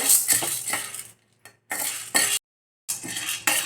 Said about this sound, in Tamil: இப்போ கடலைப்பருப்பு இதையுமே எண்ணெய் இல்லாமல் தான் வறுக்க போகிறோம்